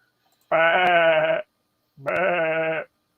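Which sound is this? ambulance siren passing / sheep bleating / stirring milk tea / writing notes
sheep bleating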